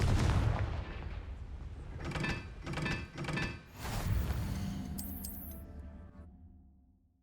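A Confringo fire spell explodes in the video game Hogwarts Legacy, with several loud, booming blasts and crackling bursts in quick succession, ending with a bright high shimmer as the noise fades out.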